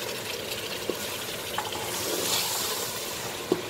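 Tomatoes go into frying masala in a pan while a BBQ chicken biryani is cooked, giving a steady close sizzle with a few soft stirring knocks and clinks.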